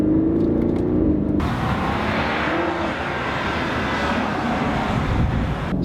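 A 2019 BMW X5 50i M Sport with a 4.4-liter V8 pulls hard while driving, its engine a loud, sustained roar blended with road and wind rush inside the cabin.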